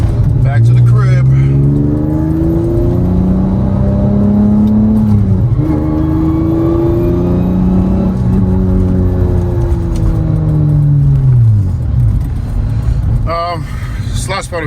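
A modified Acura TL Type-S with straight-cut gears drives under steady load, its loud gear whine and engine drone climbing in pitch through each gear, then dropping at every shift, heard close from inside the car.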